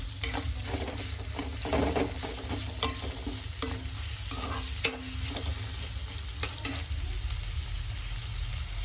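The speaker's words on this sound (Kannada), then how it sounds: "ಒಂದು ಬಾಣಲಿಗೆ 2 ಸ್ಪೂನ್ ಎಣ್ಣೆ ಹಾಕೊಳ್ಳಿ. ಎಣ್ಣೆಗಾದ್ಮೇಲೆ ಹೆಚ್ಚಿಟ್ಕೊಂಡಿರೋದು ಒಂದು ಈರುಳ್ಳಿ, ದೊಡ್ಡ ಈರುಳ್ಳಿನ ಹೆಚ್ಚಿಟ್ಕೊಂಡಿದ್ದು ಅದನ್ನು ಹಾಕೊಳ್ತಾ ಇದ್ದೀವಿ. ಫ್ರೈ ಮಾಡ್ಕೊಳ್ಳಿ ಈರುಳ್ಳಿ." Chopped large onion frying in about two spoons of oil in a pan, a steady close sizzle with repeated stirring scrapes throughout, no talk.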